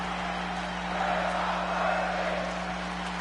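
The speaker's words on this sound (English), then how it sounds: "And this capacity crowd showing their appreciation." Capacity crowd at a professional wrestling show cheering and applauding, a steady continuous roar of many voices that swells slightly midway, with no distinct individual calls standing out.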